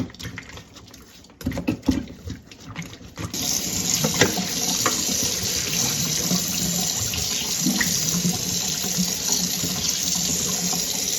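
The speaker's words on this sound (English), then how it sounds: "Take my lemon, wash it again." A kitchen tap runs steadily as a lemon is washed under it, the stream splashing close and continuous after a few brief starts and stops at the beginning.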